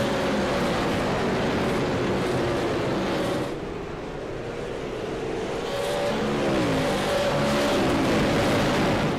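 Sim racing cars from the Sim Auto Racing Association Pierce Fleet Service Super Series roar past in a racing video game, a loud continuous engine drone with rising and falling pitch as cars pass, no talk.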